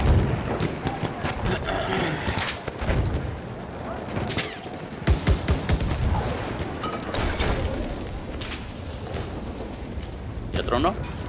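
Rapid bursts of gunfire from a shooter video game, dense volleys and single shots crackling continuously with booming impacts, loud and close, with players talking over the action.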